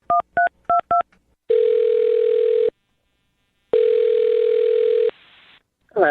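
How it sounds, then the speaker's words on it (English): A telephone number is punched in on a keypad as a short run of distinct DTMF beeps, followed by two long, steady, loud ringing tones separated by silence. "I'm dialing her phone number right now."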